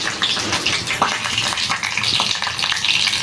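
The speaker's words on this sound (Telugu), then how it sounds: "ఇవి మాడకుండా లైట్గా వేయించుకుందాం." Dried red chillies, cut into pieces, fry lightly in hot oil in a pan while making village-style gongura pachadi, giving a steady, close crackling sizzle with dense spitting pops throughout.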